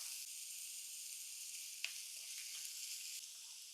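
Sliced onion fries in hot oil with a soft, continuous hiss and crackle, faint and steady, broken once by a light clink of a utensil.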